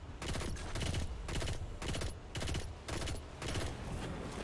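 Rapid bursts of automatic gunfire in a Destiny lost sector, loud and continuous with repeated volleys spaced roughly every half second, alone with no talk.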